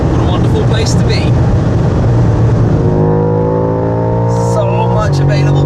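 A BMW M5 at around 250 km/h on the autobahn: dense wind and road roar with a sustained engine drone that settles into a steady tonal hum, heard from inside the car.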